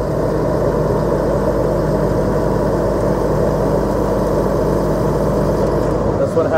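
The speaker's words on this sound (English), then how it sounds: "You can hear the idle ups working good." A forestry bucket truck's engine idles steadily with its idle-up engaged, a constant low rumble holding even and close for several seconds before a slight dip near the end.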